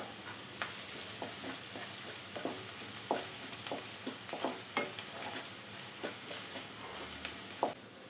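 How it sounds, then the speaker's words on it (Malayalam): A spoon scrapes and stirs egg and salt in a pan for a drumstick leaf egg dry, with soft sizzling and irregular clinks, close and moderately quiet, and no talking. "ഇനി ഇതെല്ലാം കൂടെ ഒന്ന് മിക്സ് ചെയ്തെടുക്കാം."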